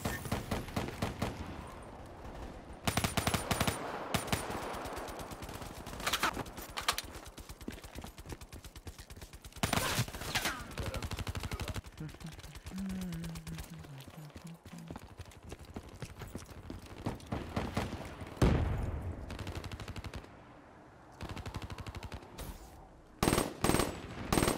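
Rapid bursts of weapon gunfire in a first-person shooter video game, loud and repeated in clusters of shots with brief pauses between volleys.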